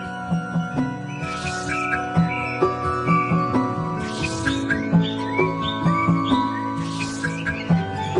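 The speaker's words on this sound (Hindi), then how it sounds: "ये तो एक तोता है" Bright chirps and whistled bird calls of a parrot repeat rapidly across the clip over layered tonal background music, close and fairly loud, as a sound effect in a Hindi children's story about a woodcutter.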